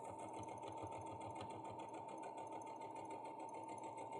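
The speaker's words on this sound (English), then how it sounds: "I'm just going to go all the way around, basting my top fabric to my foam just to keep it in place." A sewing machine runs steadily, basting top fabric to foam for a pencil case: an unbroken, fast mechanical whirr with a rapid even needle rhythm, close and quiet, with no talking.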